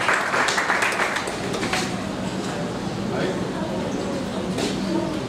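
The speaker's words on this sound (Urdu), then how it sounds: "جناب اعجاز شاہین صاحب تالیوں میں استقبال کیجیے" Applause welcomes poet Aizaaz Shahin at an Urdu poetry gathering, with dense, even clapping from a crowd sustained for several seconds, and voices murmuring underneath.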